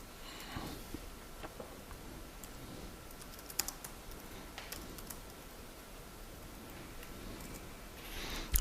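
Python code being typed on a computer keyboard in quiet, irregular bursts of soft key clicks, close up with faint room noise and a louder clack near the end.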